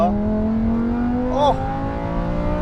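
A supercar engine climbs steadily toward 8,500 rpm, its loud, close note rising smoothly in pitch throughout, with a short vocal exclamation midway.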